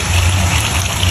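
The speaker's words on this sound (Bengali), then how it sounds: "পানি দিয়ে দিলাম" Water gushes steadily into a pan for cooking rohu fish, loud and close, a continuous rushing pour for the whole moment.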